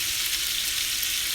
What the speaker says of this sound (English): We're going to let these brown up just a little minute, or saute up actually